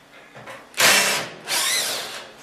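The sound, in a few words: power driver removing T20 security screws from microwave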